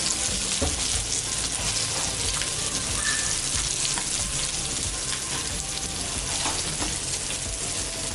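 Fish pieces frying in hot oil for a biryani, a steady dense sizzle that stays loud and close throughout with a few small pops and spatters, no voices.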